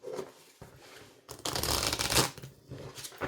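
Oracle cards from a small angel oracle deck being shuffled by hand, a papery riffle-and-slide that comes in short bursts and swells louder midway, close up with no talk.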